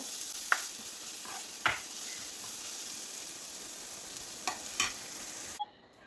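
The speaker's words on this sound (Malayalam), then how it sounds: "ഉള്ളി ഇവിടെ നല്ലതുപോലെ വഴന്ന് വന്നിട്ടുണ്ട്" Onion masala sautéing in a pan for a green peas stew gives a steady close sizzle, with a few sharp spoon scrapes and stirring clatters scattered through. The sizzle cuts off abruptly near the end.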